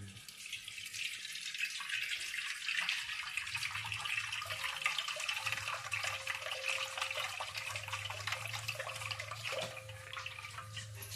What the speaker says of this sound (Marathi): अशा पद्धतीने पाणी काढायचं